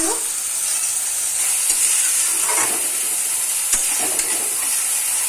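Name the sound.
chili, ginger and garlic paste frying in a pan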